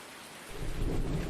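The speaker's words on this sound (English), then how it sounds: "Are you somehow magically turning the rain off?" Thunderstorm in Farming Simulator 19, steady hiss of rain that swells halfway through as a deep rumble of thunder rolls in and holds, loud and close, with no voices.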